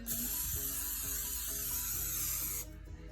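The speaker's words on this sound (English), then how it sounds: "you spray it with a little bit of olive oil" A steady olive oil cooking spray hisses onto a pan for about two and a half seconds, then cuts off, leaving a quieter hum in the background.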